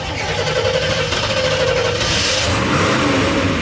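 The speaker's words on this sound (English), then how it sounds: "got the 454 Chevelle roaring to life" A 454 big-block Chevelle rumbles and revs loudly and close at a busy car meet in Houston, a continuous deep engine roar with rising throttle.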